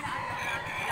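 Chickens clucking and calling close by in a brief, continuous burst of fowl noise with no talk.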